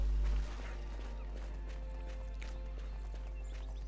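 A horse trotting in the video game Bless Unleashed, hooves clip-clopping in a steady quick rhythm, fairly faint beneath a constant tonal game music bed.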